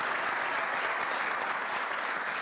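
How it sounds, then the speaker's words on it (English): Dense, sustained applause from a large audience at a Black History Month program honoring former Cleveland teacher and principal Rita Wooten, even and continuous throughout. "Let's give her a round of applause."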